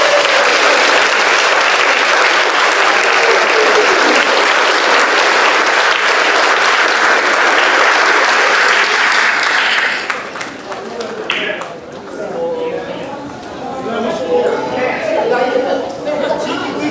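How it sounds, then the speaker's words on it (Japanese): An audience gives loud, sustained applause at a school music exchange with a Mozambique pavilion at the Osaka Expo, the clapping fading after about ten seconds into scattered claps and murmured voices. "大きな拍手をお願いします。"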